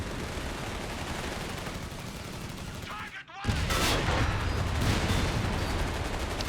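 Game battle noise from Company of Heroes 3 as an anti-tank gun fires armour-piercing rounds at a Panzer IV tank, dense rumbling gunfire and impacts, a brief dip then a louder sharp report, continuous and busy.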